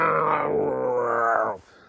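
A voice imitates the sound of a racing airplane's propeller spinning with its tips near supersonic speed at the Reno air races: a single sustained, buzzy, growling drone of about one and a half seconds, loud and close, that then cuts off abruptly.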